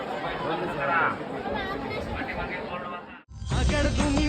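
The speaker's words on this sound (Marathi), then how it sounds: "यावेळेस खूप प्रचंड मोठ्या प्रमाणामध्ये गर्दी होती, तुम्ही पाहू शकता की केवढी गर्दी होती." A large Sunday crowd at Jejuri temple fills the air with dense, close chatter and babble, then a louder surge of voices at the very end.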